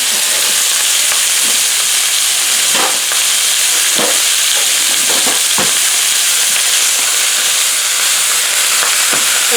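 About three pounds of ground beef browning in a pot, a loud, constant close sizzle with steamy hiss and occasional sharp scraping stirs, no voices.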